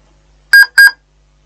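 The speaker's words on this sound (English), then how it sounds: "One beep" A Dell Latitude D620 laptop beeping at power-on, two short, clear electronic beeps close together in an otherwise quiet room.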